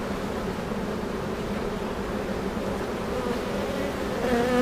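Honeybees buzzing steadily around a hive where a split colony is being checked, a dense continuous drone close by that swells slightly louder at the end, with no talking.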